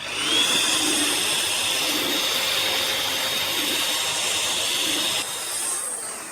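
A Chemicalworkz car dryer blower runs on its first stage, blowing air over car paint with a steady, loud broadband whoosh and a high whine that holds throughout, shifting slightly near the end.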